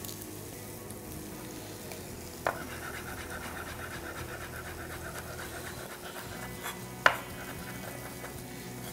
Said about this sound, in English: Now I'm gonna work on a clove of garlic and just give it a little smash like that.